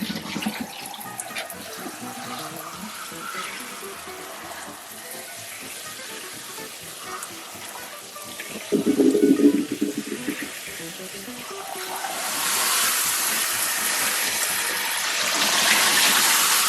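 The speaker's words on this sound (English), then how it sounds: "First, wash the galbi under running water." Beef short ribs (galbi) rinsed under a running kitchen tap, a steady hiss of water over meat in a sink that swells louder and splashier partway through, then settles into a brighter, even gush.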